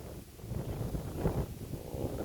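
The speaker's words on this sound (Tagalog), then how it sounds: "mahangin dito, mahangin kababayan" Steady low wind buffeting a microphone at a high viewpoint above Taal Volcano, a continuous rumbling roar with gusty swells, no voices.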